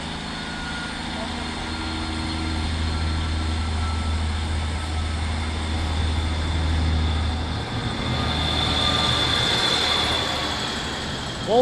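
A class 153 diesel train at Lincoln Central station gives a low engine drone that holds steady and then builds with a rising whine, heard from nearby and alone.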